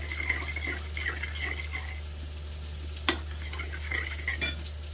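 Seasoning for crispy pork belly being stirred together with salt and sugar in a bowl, soft scraping and stirring strokes with occasional clinks of a utensil, under a steady low hum.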